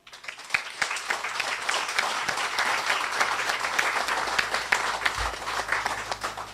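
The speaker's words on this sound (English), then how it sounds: "I want us to give a round of applause this afternoon to the Prime Minister" A crowd applauds the Honourable Roosevelt Skerrit, Prime Minister of Dominica, at an afternoon ceremony for the Belles Water Supply Project; sustained dense clapping fills the space, steady and fairly loud throughout with no speech over it.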